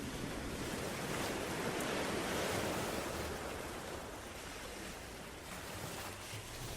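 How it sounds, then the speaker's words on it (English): Waves lap and wash steadily at the water's edge of a lonely beach, a continuous broadband surf that swells slightly louder early on, then settles into a constant near rush with a little wind. "Standing at the water's edge, you hear the lapping of the waves as they come forward and retreat."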